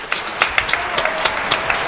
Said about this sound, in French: Applaudissons, hein.